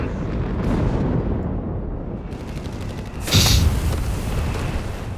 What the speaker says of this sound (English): Mortars keep blasting